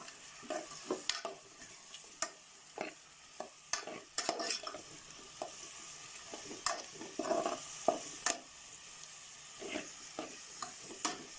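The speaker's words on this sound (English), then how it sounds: "So then you stir it very well." Spices stirred into Nigerian fried rice in a pan: a faint sizzle under repeated scraping and tapping of a spoon against the pan in an irregular rhythm, close and quiet.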